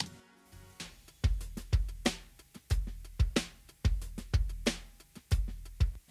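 Initial layered percussion drum loop playing solo, a repeating groove of deep thumping kicks and crisp snappy hits that keeps an even rhythm with no talking.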